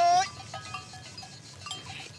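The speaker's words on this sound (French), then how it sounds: "Il élève 300 chèvres dans cette étendue de maquis." A herd of about 300 goats grazing in the Corsican maquis of the Agriates: one bleat at the start, then faint tinkling bells and soft movement from the herd.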